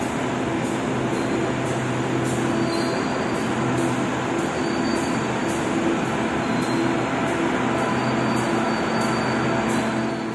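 A commuter train waits at a platform in Surabaya, a loud, steady rumbling drone with a faint regular ticking layered on top, continuous throughout.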